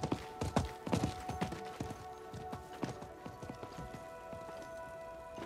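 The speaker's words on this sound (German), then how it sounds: "Das war das Pferd des Händlers." A merchant's horse in Diablo IV clops along with irregular hoof strikes, fairly close and moderately loud over a layered game ambience, fading toward the end.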